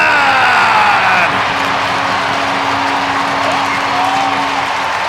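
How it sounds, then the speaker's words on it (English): Ice hockey crowd at a Sheffield Steelers versus Coventry Blaze game roaring after a power play goal, a loud sustained wall of cheering with a steady organ-like tone running underneath throughout. "That's got the crowd roaring"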